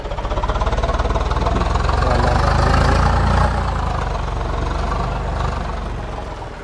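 A 744 tractor engine in Farming Simulator 22 runs loud and steady, a dense low rumble that holds throughout and eases slightly toward the end.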